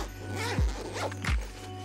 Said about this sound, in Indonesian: dia punya dua resleting ya, jadi bisa sini dua arah